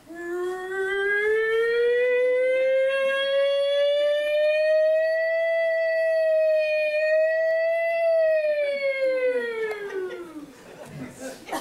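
A voice imitates a siren in a long, rising and falling wail held for about ten seconds, loud and close, before it breaks off into a rustle.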